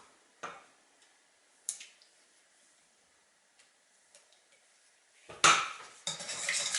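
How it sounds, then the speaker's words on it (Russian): A whisk mixes a gelatin and cream mixture for a no-bake Oreo banana cheesecake, tapping in a few sparse metallic clinks before breaking into louder, continuous scraping and clattering in the bowl. "Все хорошо перемешиваю с помощью венчика"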